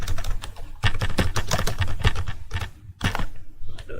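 HTML tags being typed on a computer keyboard: a quick run of close, crisp key clicks in uneven bursts with a short pause near the end.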